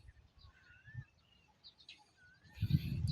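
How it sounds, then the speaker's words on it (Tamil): Sparrows chirp in scattered thin calls at a moderate distance over quiet surroundings, before a louder burst of rustling and chatter near the end. "ஒரு ஆயிரக்கணக்கான குருவி இருக்குது."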